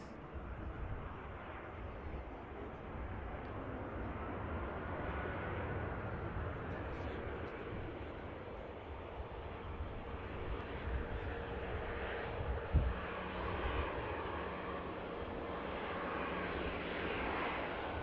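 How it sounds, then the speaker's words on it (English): An airliner touches down on the runway at Manchester Airport. A steady, broad engine roar carries throughout, moderately distant, with a faint brief thump partway through. "The aircraft touching down right on the spot."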